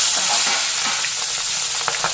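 Pabda fish sizzle loudly in hot mustard oil in a kadai, a dense, close crackling hiss with scattered pops and spatters throughout, no talk.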